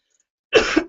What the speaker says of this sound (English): that's my cough out